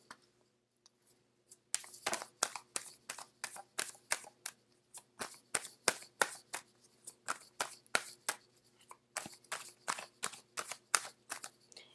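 A deck of non-traditional advice cards is shuffled by hand, with quiet handling at first and then many rapid, crisp bursts of cards slapping and riffling, close and alone without talk.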